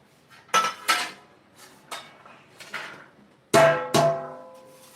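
Metal plates clatter and ring as one is set over a dish of homemade cheese burst pizza in a kitchen, several sharp clanks spaced out, ending with two louder close ringing hits.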